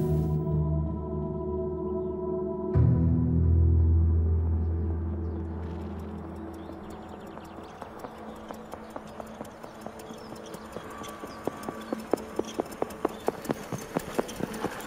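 After a low rumbling drone fades, horse hooves clip-clop in a steady, quickening trot, growing louder and crisper toward the end.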